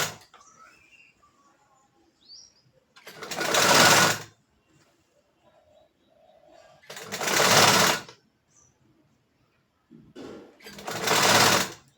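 A sewing machine runs in three separate bursts of stitching, each lasting about a second, with quiet pauses between them and faint room sounds in the gaps.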